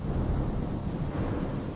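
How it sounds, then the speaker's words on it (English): Steady rain falls outside a window, a dense, continuous low rush with a deep rumbling undertone, close and fairly loud throughout with no voices. "I am listening to the rain sound."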